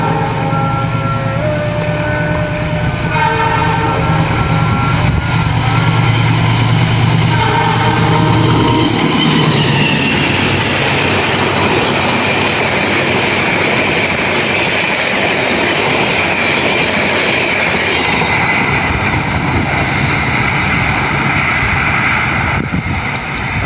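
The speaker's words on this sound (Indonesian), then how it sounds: "kereta api Sancaka sudah melintas dan menyusul kereta api 415 Do di stasiun Tarik ya" Sancaka passenger train running straight through Tarik station without stopping, loud and close, with a steady rumble, clattering wheels and a brief squeal throughout, a low engine drone early on fading as the cars pass.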